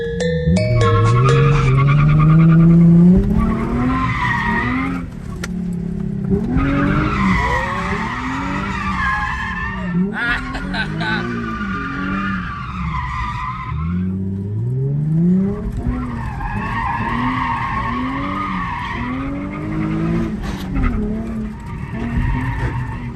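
A Nissan 350Z drifts, its engine revving up in rising sweeps between bursts of loud screeching tire skids. Several long squeals repeat over about twenty seconds, close and loud, with no talk.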